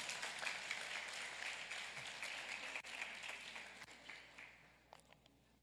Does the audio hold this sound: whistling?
no